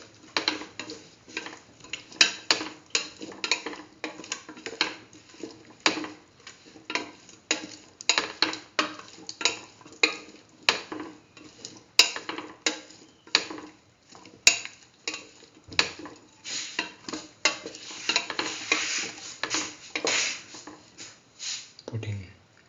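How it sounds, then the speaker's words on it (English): Cauliflower and chayote rice being sautéed in a pan, with a utensil scraping and tapping against the pan in a steady, close rhythm of repeated strokes. "Keep on sauteing."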